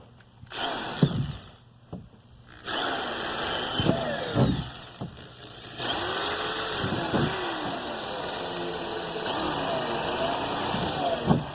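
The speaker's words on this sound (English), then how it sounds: "we're going to first drill holes in the bottom" Power drill boring holes through the bottom of a plastic kids' pool, several short whirring bursts with pauses between, moderately close, over steady outdoor background noise.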